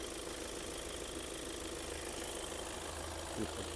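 A Volkswagen Passat Alltrack 4Motion engine idles steadily with an even, low hum and no speech, holding the same level for a few seconds.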